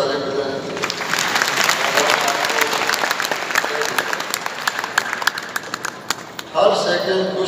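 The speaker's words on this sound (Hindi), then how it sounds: "इसके लिए तो आपको ताली बजाएं" Audience applause fills a hall at a spiritual discourse, steady dense clapping sustained for several seconds before tapering off near the end.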